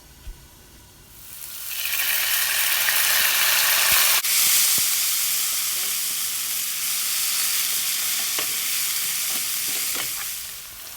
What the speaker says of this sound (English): Add the ginger and garlic and fry for a few minutes.